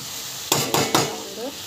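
Vegetables for a dosa side dish sauté in a pan, with a low steady sizzle and three quick stirring scrapes in a row near the mic.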